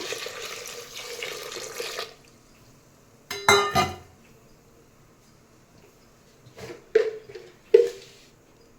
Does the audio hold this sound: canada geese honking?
no